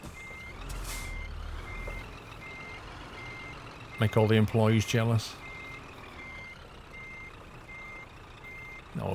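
A truck in Euro Truck Simulator 2 reverses to park, its backup alarm beeping steadily at an even rhythm over engine rumble, with someone talking briefly and a horn-like blare in the middle.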